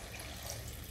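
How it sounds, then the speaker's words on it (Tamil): Water pours steadily into a pot of coconut-free chicken gravy, a short continuous splashing stream heard close and fairly quiet, with no talking. "இந்த டயத்தில் தேவையான அளவுக்கு தண்ணி ஊற்றிக்கோங்க"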